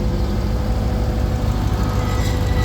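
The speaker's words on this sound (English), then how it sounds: "Let me rev it up again, I guess." A 2019 Dodge Charger Hellcat SRT with a rebuilt title, its engine held at a loud, steady, throaty idle or rev close by for a brief moment.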